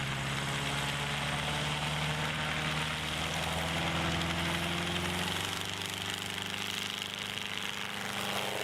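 Autogyro aircraft in flight, its engine and rotor giving a steady, dense drone with a low hum that holds throughout and shifts pitch slightly midway, no voices.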